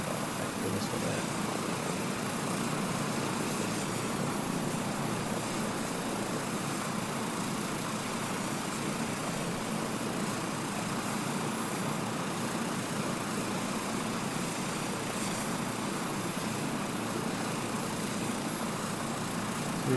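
Helicopter in scenic flight over Nubra Valley in 2024, heard from inside as a steady, loud broadband rotor and engine roar that holds unchanged for the whole stretch.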